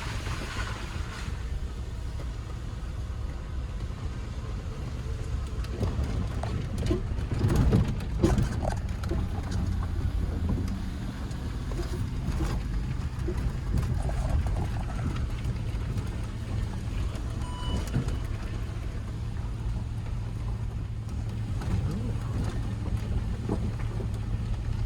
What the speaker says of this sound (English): Little mud crossing.